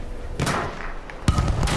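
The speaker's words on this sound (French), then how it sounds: "Ah, on balance des grenades" Grenade blasts in the Battlefield 1 video game, a pair of heavy thuds with slamming bursts, the first around midway and a sharper, louder one near the end.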